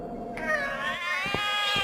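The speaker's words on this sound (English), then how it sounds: "The cats are alarming." In the video game The Cat Lady, a cat gives a drawn-out, wavering meow over ambient background sound. A couple of short soft thumps follow.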